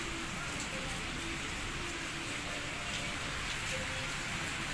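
Steady, dense rain hisses continuously, an even wash of drops on surfaces with no pauses.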